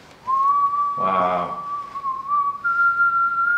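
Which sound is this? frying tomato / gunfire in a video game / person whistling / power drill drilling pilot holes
person whistling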